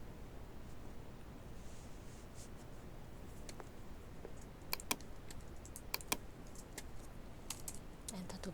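Computer keys are pressed in a quiet room, faint soft clicks at first, then a handful of sharper, louder taps near the end.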